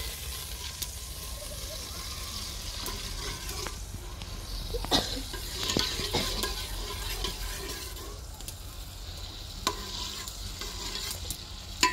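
Vegetables get stirred into masala frying in ghee over a village fire, irregular scraping strokes and clinks over a continuous low sizzle, with faint background voices.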